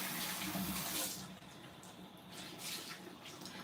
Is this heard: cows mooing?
no